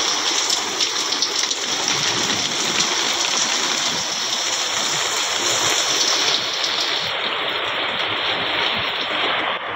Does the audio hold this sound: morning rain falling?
yes